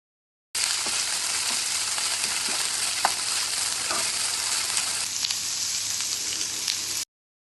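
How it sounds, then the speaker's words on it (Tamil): Okra frying in oil with mustard seeds, urad dal and curry leaves in a pan: a steady, even sizzle that stays at the same level throughout, with occasional faint pops and stirring scrapes and no one talking. "ஏற்கனவே வதக்கி வச்சிருக்கிற வெண்டைக்காய இதுல சேர்த்து, எண்ணெய், கடுகு, உளுந்து, கருவேப்பிலை எல்லாம் நல்லா வதக்கி விடுங்க"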